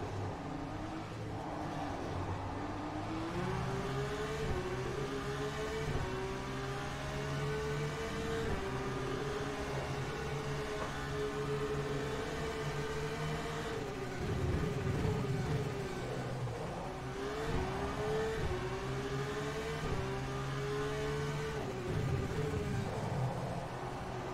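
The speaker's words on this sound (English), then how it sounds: "The car is Formula 2 spec there, Brendan." Formula 2 single-seater engine in the rFactor 2 racing sim at Baku, a steady high-pitched engine note with gear changes and shifting revs, continuous throughout with no talk.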